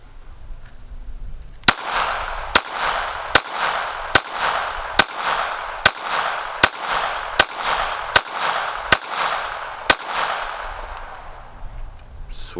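Eleven sharp pistol shots from a Taurus GX4 ring out one after another at a steady pace of just under a second apart, each a loud crack followed by a short decaying echo, with no talking.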